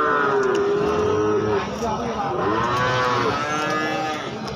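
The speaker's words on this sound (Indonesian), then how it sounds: "Deretan sapi-sapi bibitan super nih guys. Dari pasar sapi Gorang Garing Magetan Jawa Timur." Cattle at the Gorang Gareng livestock market in Magetan, East Java, low up-sweeping moos, with several overlapping calls close by over a steady crowd murmur.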